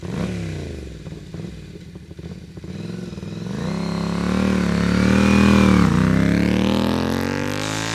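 A small Ducati 350 XL Pantah motorcycle idles with a low, lumpy exhaust rumble, then revs up into a steady roar before easing back down and revving again.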